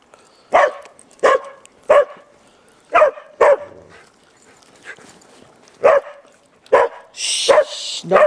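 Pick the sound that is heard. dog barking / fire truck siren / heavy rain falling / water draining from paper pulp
dog barking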